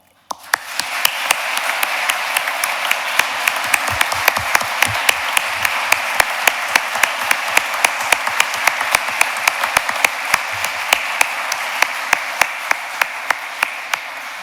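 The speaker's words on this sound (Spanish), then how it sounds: "Aplaudamos esta." Audience applause at a lawyers' swearing-in ceremony before a Supreme Court, steady dense clapping from a crowd sustained for many seconds with sharp individual claps standing out.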